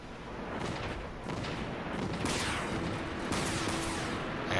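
Ship guns firing in the naval video game Dreadnought: a sustained rumbling barrage of heavy booms with sharp blasts rising out of it, loud and continuous throughout.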